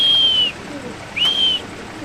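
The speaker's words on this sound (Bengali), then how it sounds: "অনেকে ডেনিশের ডাক দেখতে চান, তার জন্য ডাকটা দেন" A Danish pigeon at a pigeon farm in Khilgaon, Dhaka, gives two drawn-out, even tones with a pause between, fairly clear over a quiet background.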